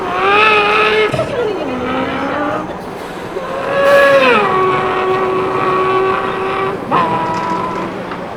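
A voice imitates a car engine, with rising and falling revving tones, gear-shift drops and sustained engine-like drones, loud and close.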